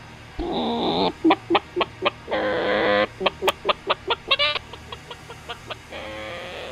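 A man imitates a chicken with his voice, a run of clucks and a few drawn-out squawks. The short clucks come in quick rhythmic bursts, close and fairly loud, with no other talk.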